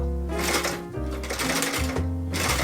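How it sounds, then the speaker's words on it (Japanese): A Seiko TF5 shoe-upper sewing machine with an attached motor, run by a foot pedal, whirs in fast rhythmic stitching bursts with a steady motor drone, briefly easing and picking up again. "こんな感じでミシンは動きますね"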